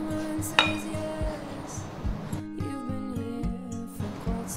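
A flat frying pan being handled in a home kitchen while making pan-fried rice balls with egg, giving soft clinks and knocks of metal over a low steady hum, with one sharper clink near the start.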